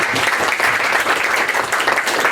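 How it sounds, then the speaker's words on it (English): Steady applause from a crowd, dense continuous clapping filling the room for a couple of seconds. "I think that deserves a round of applause just for being a brilliant question."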